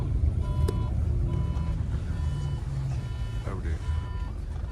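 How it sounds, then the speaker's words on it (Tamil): A vehicle reverses to park on a city street in Kerry, Ireland, its reversing beeps chirping in a steady repeated pattern over a continuous low engine and traffic rumble, with a voice briefly speaking. "வண்டி வந்துட்டு பார்க் தான் பண்ணுறாங்க"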